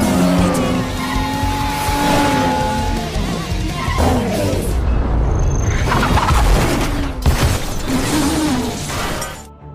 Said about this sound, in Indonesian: kehilangan kendali atas mobilnya sehingga mengalami kecelakaan yang brutal